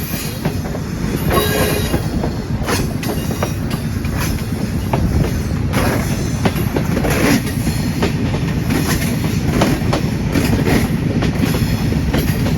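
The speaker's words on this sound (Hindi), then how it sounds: "खूबसूरत ट्रेन मार्गला हिल को गुड बाय करते हुए संगजानी के मुकाम पर पहुँच रही है।" Awam Express passenger train running through hilly country near the Margalla Hills, a loud continuous rumble with rhythmic clickety-clack of wheels over rail joints and occasional faint squeals, heard close from on board.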